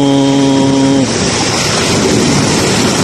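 Large ocean waves slam into a house's gutter during a tidal surge, a loud, roaring wash of surf close by, preceded by a brief low droning tone at the start.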